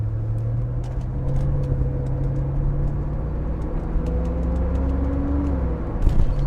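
A 1984 Porsche 928S engine pulls up from a smooth idle, a steady low drone whose pitch climbs gradually as the car accelerates, close and continuous with a light whir, no talking.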